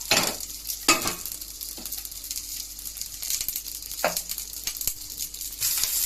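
Dried red chillies and poppy seeds frying in a pan, a soft dry sizzle broken by intermittent scraping and rustling stirs, fairly quiet and close.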